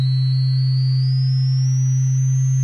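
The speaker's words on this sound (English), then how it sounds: "really high-pitched sine wave, is actually moving this waveform up and down at little increments" A high-pitched synthesized sine wave, built as bass sound design in Ableton Live, holds a steady loud low hum beneath a thin pure tone that glides slowly upward, alone with no voices.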